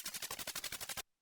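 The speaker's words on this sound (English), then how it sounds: "under the hi-hat, I gave the stereo glitch pattern with the same hi-hat sound" Stereo glitch pattern built from a Casiotone MT-35 toy keyboard hi-hat, a fast burst of about a dozen evenly spaced bright noisy hits that cuts off abruptly after about a second.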